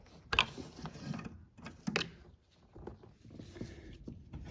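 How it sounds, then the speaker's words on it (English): A door courtesy light connector is released with a small screwdriver inside a 2011-2020 Toyota Sienna front door, making a few sharp plastic clicks and light rattles close by, separated by brief pauses. "You can just press the tab on the connector with a little screwdriver and disconnect the"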